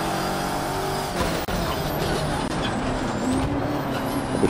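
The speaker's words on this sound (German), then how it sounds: "Hört sich gut, der Wagen." Race car engine in Project Cars 3, a steady loud roar holding through the moment with brief dips, sustained engine noise with no talking over it.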